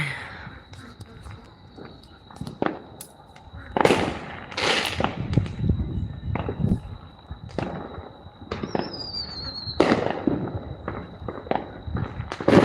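Fourth of July fireworks bursting repeatedly at a distance, sharp cracks and booms scattered irregularly, with a steady high whine and faint voices in the background.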